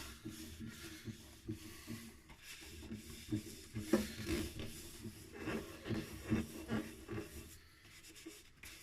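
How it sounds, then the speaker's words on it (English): Steady rubbing and scrubbing of a cloth applying sanding sealer over a small oak ashtray, with soft uneven strokes rising and falling; no voices. "Get that sanding sealer on there."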